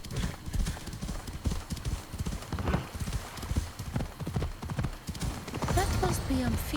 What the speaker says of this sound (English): Does Hades not care that his horse is stolen?